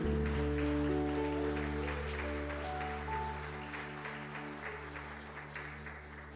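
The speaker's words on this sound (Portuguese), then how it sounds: "Vamos aplaudir a Deus, aleluia." A church congregation claps in praise to God during a service, moderate steady applause over a sustained organ or keyboard drone that fades gradually.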